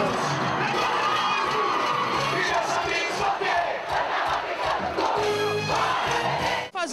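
A dense crowd cheers and shouts at a carnival bloco in the Sambódromo in Manaus, loud continuous whooping and yelling from many voices close by, with no break.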